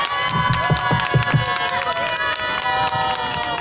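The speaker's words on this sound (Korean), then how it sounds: "다시 한번 큰 박수 부탁드릴게요" Crowd at a Wednesday rally cheering and clapping in a lively mix, with shouts and a few raised voices over a steady wash of applause, close and loud.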